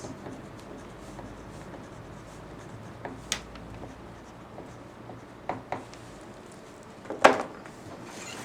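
Pen writing on pattern paper for a skirt back block, with soft continuous scratching strokes and a few sharper taps, close and quiet.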